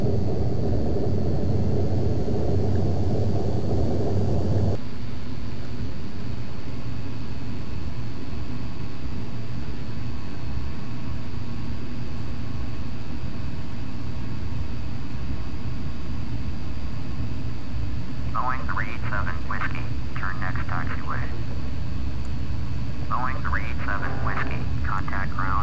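In Flight Simulator X, a Boeing 737 airliner taxies off the runway after landing as its jet engines throttle up, making a steady whooshing roar. The roar drops in character after a few seconds, and brief higher whines come later.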